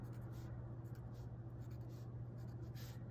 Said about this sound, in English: You'll mark 7 inches all the way down, and then across the bottom